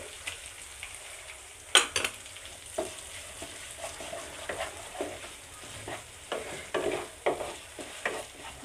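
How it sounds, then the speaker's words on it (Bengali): A spoon stirs masala paste with ginger paste as it fries in a pan for a mustard pabda fish curry. A soft steady sizzle runs under irregular scraping strokes and occasional light clinks of utensil against the pan. "মশলাটা ভালো করে নেড়ে রাখতে হবে, তা না হলে পুড়ে গেলে আবার ভালো লাগবে না, লেগে গেলে।"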